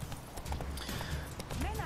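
A horse's hooves clip-clop at a steady trot along a road in the Witcher 3 video game, close and rhythmic under someone talking, with a brief neigh.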